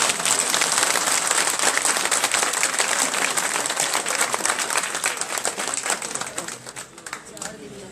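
Steady applause from an audience at a political gathering in Workers PIB Colony, dense continuous clapping that holds level for several seconds before thinning slightly toward the end.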